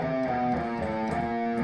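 An electric guitar plays an alternate picking exercise, a quick run of evenly picked notes starting on an upstroke, sounding close and dense with a slightly driven tone and no talking.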